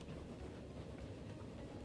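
A train runs in the railway simulation game Transport Fever 2, giving a continuous, dense rumble of wheels on rails with a faint clickety rhythm and no talk.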